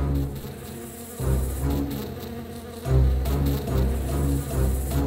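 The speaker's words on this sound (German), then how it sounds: "Dorothy und ihre Freunde sahen die Bienen auf sie zukommen." Giant bees in a fairy-tale sound effect, a loud, continuous insect buzzing that swells in waves, with the bees drawing nearer and the drone thickening in the second half.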